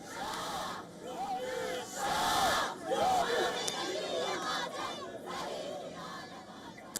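A crowd of demonstrators chants and shouts outside the Iranian consulate in Istanbul in the rain, a dense, sustained roar of many voices rising and falling with rhythmic calls.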